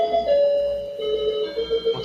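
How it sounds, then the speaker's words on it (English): Doorbell ringing in a home, a sustained melodic chime tone with steady ringing partials, moderately loud and held for about two seconds. "That's the doorbell."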